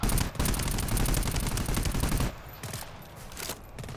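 Automatic weapons fire in Rainbow Six rattles loud and fast for about two seconds, then breaks into sparser, quieter bursts and single shots.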